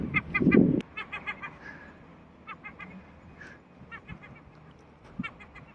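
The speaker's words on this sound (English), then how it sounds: "they've just told me that there's an angry seagull" An angry seagull gives repeated harsh, nasal calls in short clustered bursts, fairly near, with a low thud or rumble at the start and quieter gaps between the cries.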